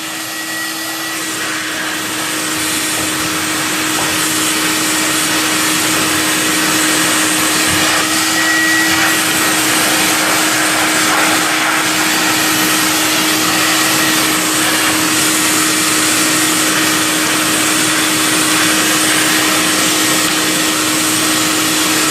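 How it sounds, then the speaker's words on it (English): A vacuum cleaner runs continuously with a steady, loud whine and rushing airflow, no voices over it. "we're going to continue our dry cleaning system using our vacuum and a brush as necessary"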